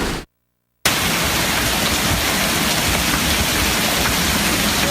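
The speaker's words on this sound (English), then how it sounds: "There's a lot of hail, a lot of rain in the Dallas, Texas area tonight." Heavy rain and hail from a nighttime thunderstorm in the Dallas, Texas area make a dense, steady roar. A brief silent gap near the start breaks it before the downpour continues loud and unbroken.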